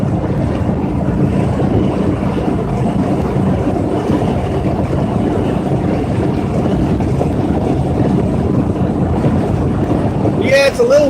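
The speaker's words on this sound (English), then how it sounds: "it's a little windy here in my neck of the woods." Wind buffets the microphone with a heavy, continuous low rumble and gusty roar throughout, loud and close.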